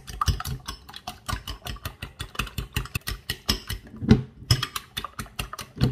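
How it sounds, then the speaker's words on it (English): Cake batter for Nigerian buns is whisked until fluffy, making a fast, close, rhythmic scraping and tapping that keeps going with a brief pause near the end. "So I'm going to whisk it together until it becomes very fluffy."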